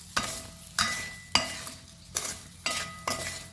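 Chili powder is stirred into a soybean mixture frying in a pan, with a steady sizzle under six or seven rhythmic spoon scrapes against the metal, close and clear, with no one talking.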